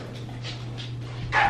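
Soft, high whimpers and yips from three-week-old puppies come in a few short bursts over a low steady hum, with one slightly louder cry at the end.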